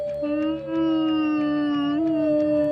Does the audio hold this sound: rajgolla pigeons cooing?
no